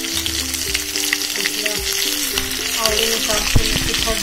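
Mustard seeds and chillies sizzling in hot oil for an instant dhokla tempering, a continuous close, crackling fry with scattered pops and a faint tonal hum underneath.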